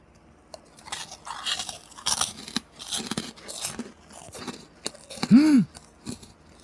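Someone chews a melon-flavoured snack up close, with a series of crisp crunches and bites between soft mouth sounds and a few quiet murmurs.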